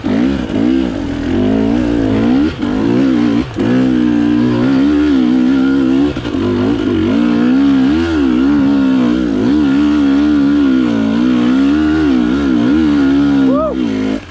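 A KTM XCW 300 two-stroke dirt bike climbs uphill on the Kalepa Ridge Loop, its engine loud and close, revving and droning continuously with wavering pitch as the rider works the throttle.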